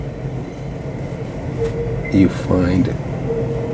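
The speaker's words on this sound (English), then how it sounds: "if you hear that is the sound of the train." A New York City train rumbles steadily in the background with squealing metallic screeches from the rails, heard while a person talks nearby.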